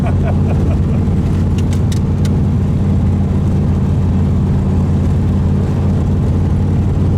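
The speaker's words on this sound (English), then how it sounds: "That's why I like the side pipes on the Corvette." A 1967 Chevrolet Corvette with a 427 cubic-inch V8 and a four-speed gearbox rumbles through side-exit exhaust pipes, a deep, loud, steady low growl with a few faint clicks early on.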